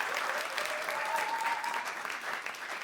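A church congregation claps and cheers in a continuous wash of applause, with a brief raised voice or whistle rising above it midway.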